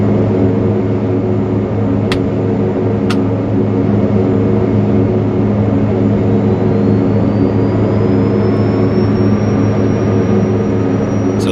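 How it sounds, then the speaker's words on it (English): Engine number 1 on a BN-2T turbine aircraft starts up in X-Plane 11, with a loud, steady engine drone joined by a rising turbine whine that climbs steadily as it spools up, plus a couple of sharp clicks early on. "we'll go ahead and start the engine number 1"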